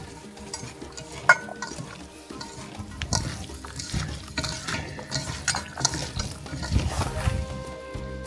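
Salted and peppered meat for shashlik is stirred and tossed up close, giving wet squelching and light clinking in an irregular, continuous rhythm with no talking.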